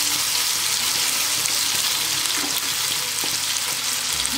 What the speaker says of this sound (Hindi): तो आलू को साथ ही में डाल के दोनों को फ्राई कीजिए।